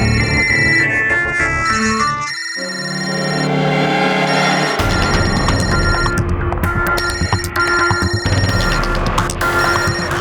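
A telephone rings indoors in a Hindi TV drama scene, its electronic ringtone chiming in repeated bursts over background music with no talking.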